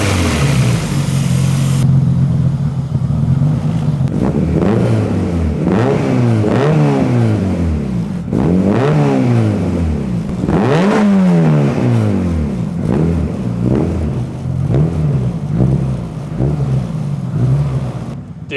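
A 600HP Honda Civic revs hard through a custom-fabricated downpipe exhaust with no flex pipe, loud and close, with repeated rising and falling throttle blips over a steady engine drone and no talking.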